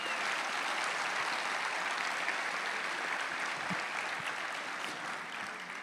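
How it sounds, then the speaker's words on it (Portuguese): A church congregation claps steadily during a Christian worship service, a continuous wash of applause at moderate loudness that stays even and slowly fades slightly toward the end. "Dá um aplauso para Jesus, porque Ele não errou com você"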